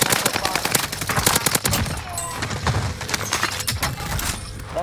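Rapid bursts of gunfire from an online multiplayer shooter game crackle densely and continuously, with overlapping automatic shots at close range.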